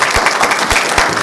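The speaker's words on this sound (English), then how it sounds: "let's give them a round of applause." Audience applause for a panel of condo buying experts, steady loud clapping from a crowd throughout.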